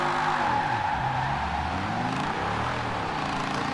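A 1968 Ford Mustang GT 'Eleanor' muscle car drifts in the racing video game Forza Horizon 4, its engine roaring steadily and rising and falling with revs while the tyres skid continuously throughout.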